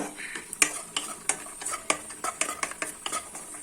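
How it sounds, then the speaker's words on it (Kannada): Raisins fry in a pan over a low flame while a spoon stirs them, producing a string of short, close clinks and scrapes against the metal over a faint sizzle. "ದ್ರಾಕ್ಷಿ ಎಲ್ಲ ನೀಟಾಗಿ ಫ್ರೈ ಆಯ್ತು."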